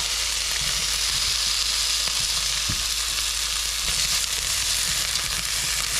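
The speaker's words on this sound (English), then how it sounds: "So now we're going to saute the onions." Vidalia onions sauté in a hot pan with a loud, continuous hissing sizzle that holds steady throughout, broken now and then by soft stirring scrapes.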